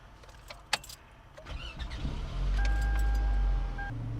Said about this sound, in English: So I would start the engine.